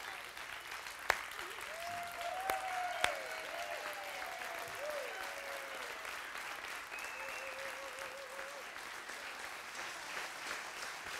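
Audience members applaud through a church service: sustained clapping, fairly quiet and distant, a couple of sharp claps standing out, with a voice heard faintly over it.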